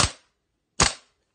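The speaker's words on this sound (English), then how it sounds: "Semi-automatic." Two sharp, loud cracks ring out about 0.8 seconds apart as a WE-Tech M16 gas blowback airsoft rifle running on propane dry-fires on semi-automatic, each shot decaying quickly into silence.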